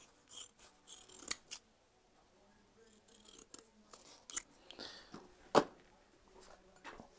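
Scissors cutting a Scotch-Brite pad during work on a 1973 Bond Bug 700es: a run of crisp snips and scraping rustles in uneven bursts, close and fairly quiet, with a sharper snip near the end.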